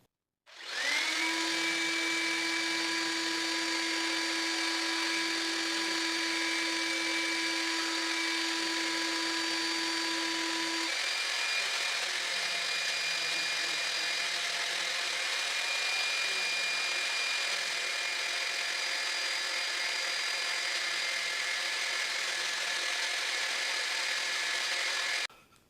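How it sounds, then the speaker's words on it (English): A power sander works wooden tealight candle holders, making a loud continuous whining drone with a steady tone that starts abruptly and runs for the whole stretch before cutting off, with no talk. "I have to give these a quick sand before I throw a coat of paint on."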